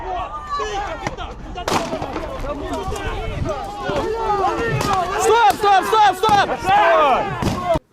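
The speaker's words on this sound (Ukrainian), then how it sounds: "Дивіться, стріляє!" Several loud, sharp gunshots crack out amid a tense crowd protesting illegal construction on the Dnipro riverbank, with agitated voices shouting and talking over and between the shots.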